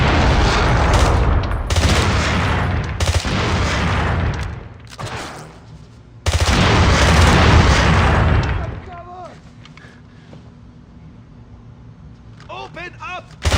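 Gunfire in James Bond 007 Blood Stone, dense bursts of rapid shots and blasts that come in loud waves, break off, then resume, with shouting voices mixed in and scattered fainter shots toward the end.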